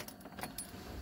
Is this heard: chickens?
no